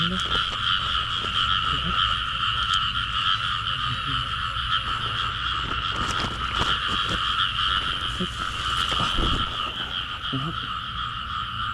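Dense chorus of frogs croaking continuously during rain at night, loud and close, a steady pulsing drone with no talk.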